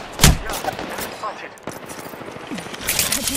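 Rapid gunfire bursts in the video game Apex Legends, a loud sharp shot up front followed by scattered volleys and weapon effects throughout, busy combat noise with game voice callouts mixed in.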